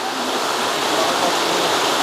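The Josefstal waterfall near Schliersee roars as a dense, steady rush of falling water, close and loud, with no break across the short stretch.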